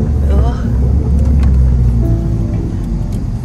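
Engine of a 2012 Mini Cooper Coupe John Cooper Works while driving, a steady loud low rumble heard from inside the cabin, with a couple talking over it.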